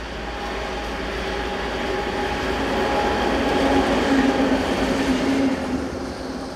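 A freight train of lime wagons rolling south past overgrown, largely disused yards, a steady loud rumble of wheels on rail with faint squealing tones, swelling slightly as the wagons pass close by.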